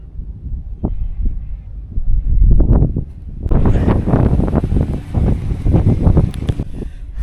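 Gusty wind buffets an off-grid homestead in New Mexico in uneven bursts, rumbling and rustling close to the microphone, growing rougher partway through.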